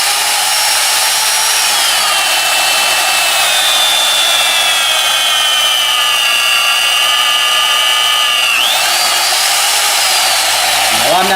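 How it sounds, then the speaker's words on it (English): An Alfra RB35SP magnetic drill whines steadily as it bores dry into steel, a loud high motor tone that shifts pitch near the end, with no one talking. "tells me that I'm ready to start drilling"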